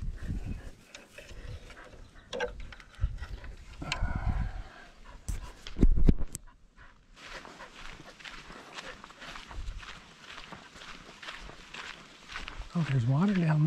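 Dog on a leash on a hiking trail, with soft panting and footsteps on dirt in the foreground, interrupted by people talking nearby.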